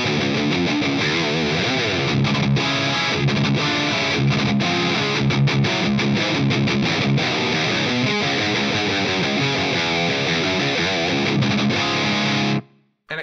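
Carvin V3 tube amplifier played through its intense mode with EQ engaged, a heavily distorted electric guitar chugging thick riffs continuously and loudly before cutting off abruptly at the end.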